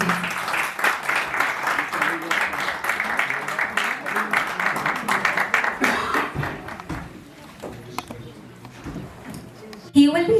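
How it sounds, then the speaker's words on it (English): An audience at a writers' festival open mic claps loudly to welcome an author to the stage, the applause thinning out after about six seconds as scattered claps, murmurs and voices take over. "We welcome you, sir, with a round of applause."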